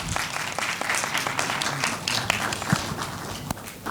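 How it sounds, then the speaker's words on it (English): A round of applause for Dr. Deep Das at an expert talk on DACs, brisk clapping from a room of attendees with distinct individual claps standing out, steady throughout and fading slightly at the end. "A big round of applause for sir."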